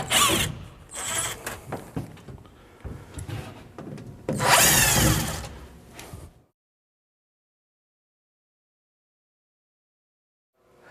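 Power drill backing screws out during a Clarion bathware bathtub installation, a series of close, loud whirring bursts with clicks and handling noise for about six seconds, then silence.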